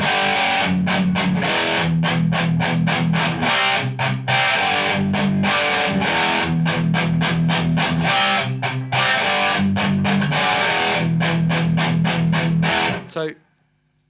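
An electric guitar played through stacked distortion pedals rings out as a heavily overdriven, gritty riff with steady chugging rhythm and sustained low notes, loud and continuous before cutting off abruptly near the end.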